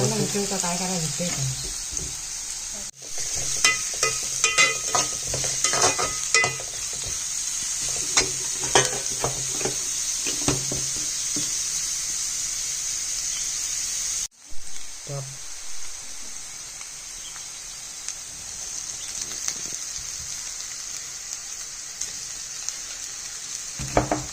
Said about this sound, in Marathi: कांदा थोडासा ब्राऊन होईपर्यंत परतवून घ्यायचा